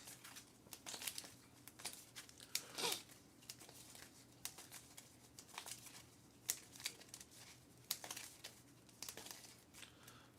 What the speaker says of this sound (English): Give this a good shuffle.